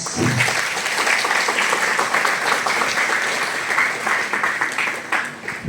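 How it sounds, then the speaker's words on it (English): Sustained applause from a sizable crowd welcoming guests fills the room, steady and loud throughout before gradually easing slightly at the end. "please welcome the guests with a huge round of applause"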